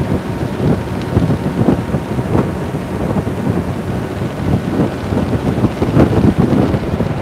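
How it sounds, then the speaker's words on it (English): Strong wind blowing outdoors during a catfishing trip, a loud continuous rumbling roar buffeting the microphone with gusty surges throughout and no speech. "Try to go somewhere where I can get out of the wind."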